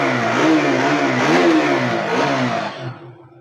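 A motorcycle fires up on its self-starter and revs, the engine rising and falling in pitch with a loud, close buzzing drone that fades toward idle at the end.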